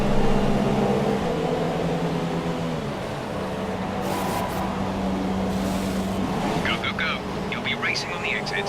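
An F1 car engine in the F1 2017 game winds down as it slows for the pit lane at Sepang, its pitch dropping and then settling into a steady drone under continuous commentary.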